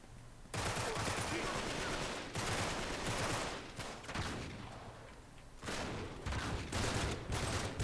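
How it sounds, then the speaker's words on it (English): A three-shot burst pistol firing in the video game Uncharted 3, with loud, dense volleys of gunfire in several stretches separated by brief pauses, mixed with other game gunfire. "It's a 3-shot burst pistol."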